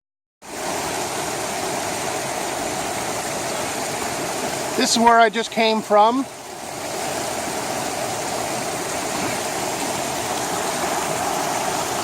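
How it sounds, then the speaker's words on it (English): Steady broadband rush of a waterfall and mountain stream running down toward the ocean on a coastal hike at Cape Chignecto, continuous throughout, with someone briefly talking over it partway through. "there's constantly these falls going through here, because it's all heading down toward the ocean off of this mountain"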